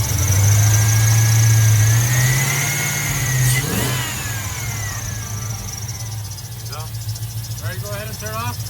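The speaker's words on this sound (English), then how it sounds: "so go ahead and give it a little throttle" LS-swapped Chevrolet C10 pickup with a stock engine, revved with a bit of throttle: a loud rising rev in the opening seconds that falls back to a steadier idle, with a squeal and talk under the rumble later on.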